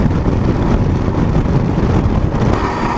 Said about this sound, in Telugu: సో విన్ నాయిస్ లైట్గా వస్తుంది.